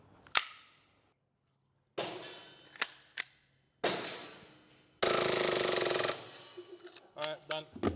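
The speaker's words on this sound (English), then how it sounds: "We're gonna shoot 10 BBs each and then have a bit of a competition to see who can get the highest score" Novritsch SSP-28 airsoft pistol firing BBs at a target: a few sharp single snaps spaced apart, then a sustained loud burst of rapid fire, followed by quicker clicking shots near the end, all close and clear.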